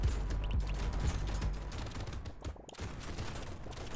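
Rapid shotgun fire from the top-down arena game Brotato, a dense stream of overlapping blasts rattling continuously with no talk over it.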